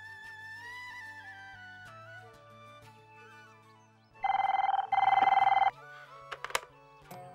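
A telephone rings in a Hindi feature film, the electronic ring bursting out loudly in two quick pulses over a soft musical score, with sharp clicks following.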